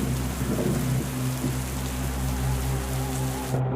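Heavy rain pours steadily in a forest, a dense continuous hiss with low rumbling thunder beneath it throughout, loud and close, with no voices.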